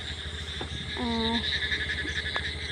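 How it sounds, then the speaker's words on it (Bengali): A frog croaks once in a short pulsed call over a steady outdoor background of insect or cricket drone, moderately close and clear. "দেখো এই পাশটায় ব্যাং ডাকছে"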